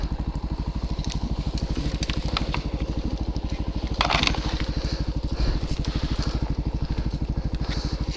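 A Christini AWD 250DS all-wheel-drive dirt bike thuds along on a steady, rapid single-cylinder beat while being ridden. A brief crunchy burst comes near the middle.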